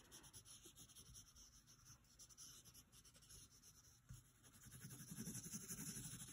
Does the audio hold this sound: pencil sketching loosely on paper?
yes